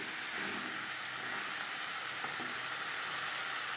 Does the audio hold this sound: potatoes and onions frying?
yes